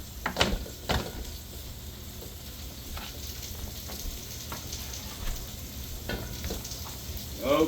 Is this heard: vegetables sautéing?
yes